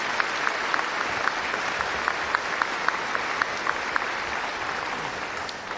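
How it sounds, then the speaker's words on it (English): Sustained audience applause for teachers at a 2023 high school graduation ceremony, a steady wash of many hands clapping with some distinct claps rising above it throughout. "Could we please have one more round of applause for our teachers who have helped our graduates reach this milestone?"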